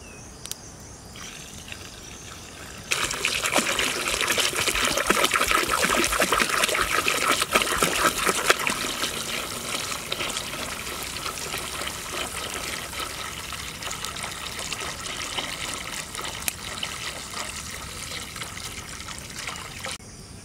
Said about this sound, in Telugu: Adding some water.